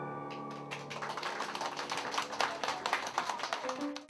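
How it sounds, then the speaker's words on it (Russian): Applause follows a children's theatre performance, a faint dense patter of clapping building after a fading musical chord. "И как итог – аплодисменты"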